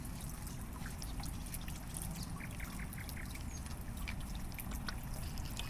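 Hot engine oil draining from a 2022 BMW G310 GS motorcycle into a tray, a faint continuous trickle and pour with small splashy drips, steady and unbroken throughout.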